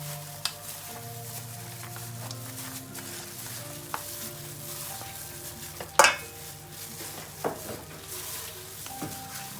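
Mutton ribs with a little salt are stirred in a frying pan, a close, quiet sizzle broken by scattered spoon scrapes and taps and one louder clank against the pan, with no speech.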